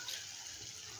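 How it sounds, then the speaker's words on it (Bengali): Small amount of water poured into egg curry masala in a pan, a short steady splashing pour heard close and alone. "এবার দেখো এর মধ্যে অল্প জল দিয়ে দেব,"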